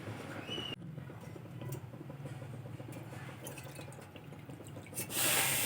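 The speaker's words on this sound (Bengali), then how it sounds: "আর এই একই বাটি 2 বাটি দিয়ে দেব জল।" Water pours steadily into a pot holding sugar and cracked cardamom pods for a thin sugar syrup, with a soft, continuous splashing that swells louder at the end.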